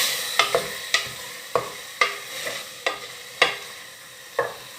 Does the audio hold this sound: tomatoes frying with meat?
yes